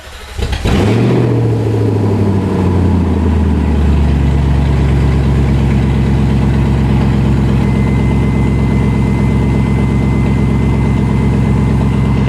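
A BMW E39 540i wagon engine with open headers and no exhaust cranks and fires up, then idles very loudly and roughly with a deep, throbbing rumble that stays steady throughout.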